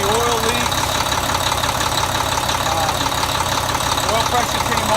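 A Volvo D13 diesel truck engine idles steadily just after starting on freshly changed injectors, a continuous low rumble with a faint knock, with someone talking over it.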